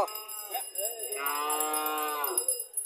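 A calf at a village cattle market in Cumilla, one loud close drawn-out moo rising and holding for about two seconds after a short grunt, heard alone.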